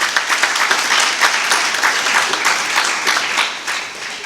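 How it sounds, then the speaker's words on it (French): A large assembly of the Conférence Épiscopale applauds Monseigneur Miguel with loud, sustained clapping from many hands, holding steady before tapering off. "Est-ce qu'on peut applaudir Monseigneur Miguel?"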